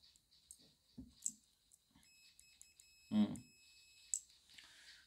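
A multimeter gives a faint, steady continuity beep lasting about two seconds as it tests a good fuse from an electric bicycle. Scattered soft clicks come before and after the tone in an otherwise quiet room.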